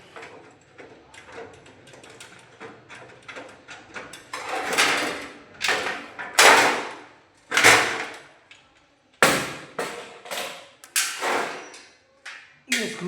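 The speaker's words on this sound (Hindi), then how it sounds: "ये स्क्रू था जो हम लोगों ने निकाल दिया। ये डाउन साइड पे लगा हुआ था।" A screw removed from the lower side of an electrical panel during installation, close mechanical ratcheting and clicking turns in uneven bursts that grow louder, with short pauses and some scraping of metal.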